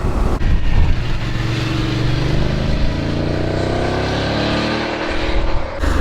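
A Voge 900 DSX motorcycle cruising at 70 mph in sixth gear, its engine drone steady and loud beneath heavy wind rush, holding a constant pitch without gear changes.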